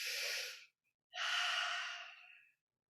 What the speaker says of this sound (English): Sitting tall, breathing deeply.